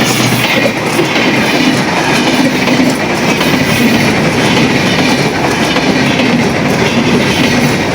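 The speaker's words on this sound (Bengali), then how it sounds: "দেখুন ট্রেন চলে আসছে" A train rushes past at high speed in a village, a loud continuous roar with rattling wheels that fills the whole stretch without letup.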